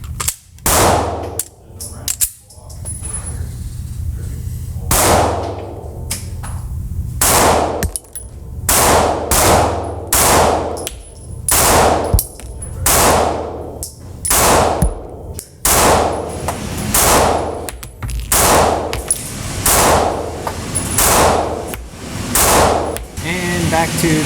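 Springfield Hellcat Pro pistol firing at a range: sharp, loud gunshots in an irregular string, some in quick pairs, each with a ringing echo, close to the listener.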